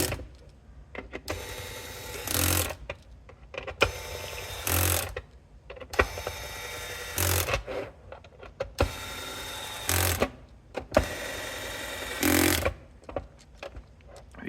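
An electric screwdriver set to torque setting 2 drives screws into an enclosure in repeated short whirring bursts, about six runs separated by brief pauses and handling clicks.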